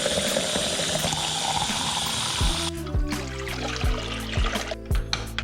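Water running and pouring into a vessel for boiling coffee, a steady gushing flow for the first half, then lower gurgling and trickling with irregular drips and clunks, close by.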